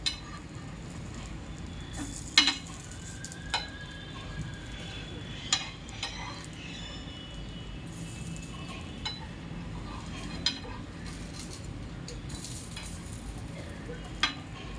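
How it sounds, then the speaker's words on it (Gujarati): Paneer and poha patties fry in a pan and get flipped, with a steady sizzle under scattered clinks and scrapes of a utensil against the pan. "ટિક્કી પલટાવીએ, એક બાજુ પાકી ગઈ છે."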